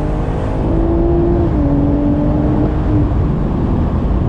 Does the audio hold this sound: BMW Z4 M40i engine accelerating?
yes